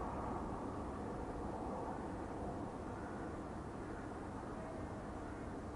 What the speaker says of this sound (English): that's probably like a jet